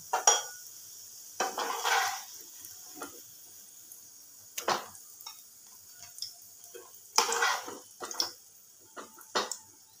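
Fried pakoras are lifted from a pan of hot oil in a home kitchen, giving a string of sharp metallic clinks and scrapes of a utensil against the pan, spaced unevenly over a quiet background with faint sizzling.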